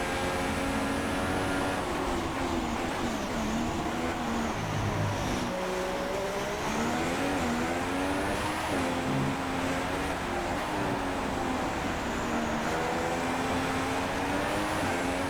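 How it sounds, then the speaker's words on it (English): Formula 1 car engine from the F1 2016 video game at the Spanish Grand Prix in career mode, a continuous whining drone with rising and falling pitch sweeps as gears shift, fairly quiet and steady without talk. "Yes, lads, we're pulling away from Raikkonen"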